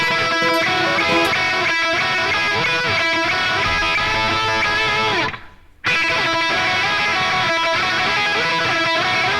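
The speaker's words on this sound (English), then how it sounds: "if you don't play it with the tremolo picking technique, it sounds like this" A distorted electric guitar plays a dense riff in plain picked strokes rather than tremolo, loud and sustained, with a brief drop to near silence partway before resuming.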